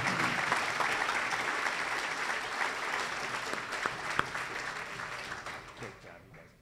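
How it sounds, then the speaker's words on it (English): A luncheon audience at a Rotary meeting gives sustained applause for the panelists, dense, even clapping that holds steady for several seconds and then tapers off toward the end. "One more round of applause for our panelists today."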